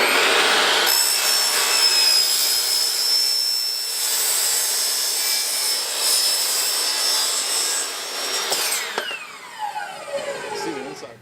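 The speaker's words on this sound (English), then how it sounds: "now we're just going to turn the drill 30 degrees in the opposite direction," A power drill cuts through a plastic trench drain at an angle with a steady, loud, whining grind that runs for several seconds, then tapers off into scraping and rattling as the cut finishes.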